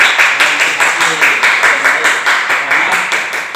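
Classroom of students applauding together during an Islamic lesson, fast rhythmic group clapping in a steady even beat, loud and close, with some voices mixed in.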